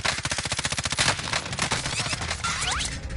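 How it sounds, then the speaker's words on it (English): Rapid automatic gunfire in a first-person shooter video game, a loud dense burst of fast regular shots followed by scattered ricochet-like whines and debris. "They're shooting at us."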